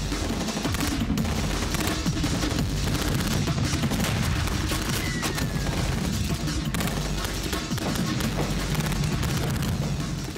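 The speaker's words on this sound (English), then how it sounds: "concealed machine guns blast at patrols inching their way forward" Machine-gun fire in a World War II battle on Saipan, with concealed guns firing on advancing Marine patrols, rendered as continuous loud dense bursts and booms filling the whole stretch without any speech.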